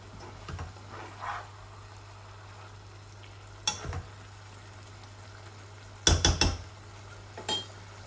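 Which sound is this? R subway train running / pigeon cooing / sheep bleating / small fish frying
small fish frying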